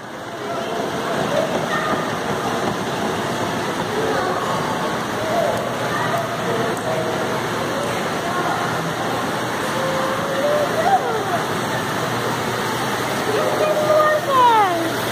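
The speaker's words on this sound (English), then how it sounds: "Look at the water fountain." An outdoor water fountain splashes in a steady, close, even rush, with faint voices in the background.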